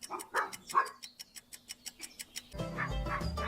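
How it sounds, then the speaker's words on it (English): A dog barks in a quick burst of several yips at close range, followed by a rapid string of short rhythmic sounds and then a fuller, louder stretch of mixed noise at the end. "Yes, a dog."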